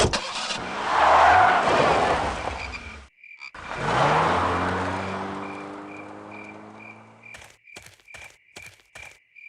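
In the Full Throttle video game, a car engine revs hard twice with rising, straining pitch, then pulls away and fades, leaving a few sharp clicking ticks at the end.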